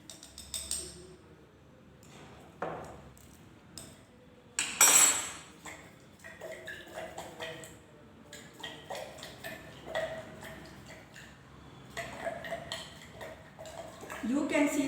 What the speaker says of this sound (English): And now we will add solid iodine with the help of spatula.